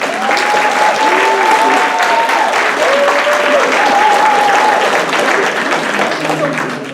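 A loud, dense round of applause from a gala audience welcoming a speaker, sustained steadily throughout, with faint voices and cheers threaded underneath.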